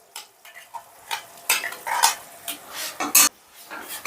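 A spoon stirring a ground paste of onion, garlic, ginger and cashew in a pan, with irregular scraping strokes, soft sizzling and occasional clinks of metal against the pan, close and without talk.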